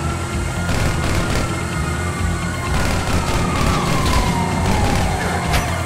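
A police car siren in Grand Theft Auto V wails with a steady sweeping tone over a dense, loud bed of engine and traffic rumble, running throughout with no talk.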